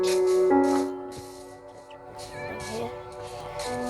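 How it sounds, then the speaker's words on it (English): A cat meows repeatedly in Minecraft Bedrock Edition, short close calls over a steady tonal game music background. "Come here, you stupid cat."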